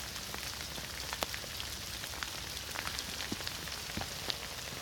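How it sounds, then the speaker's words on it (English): Steady rain runs down a driveway into small outlets in a Southern California yard, a constant soft patter with scattered sharper drops close by and no voices. "All the rain that comes down the driveway, I direct into little outlets"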